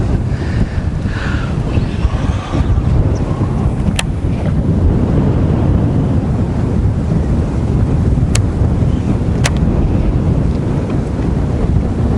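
Strong, steady wind buffets the microphone on a lake during bass fishing, a loud continuous roar with faint sounds of water underneath and no talking.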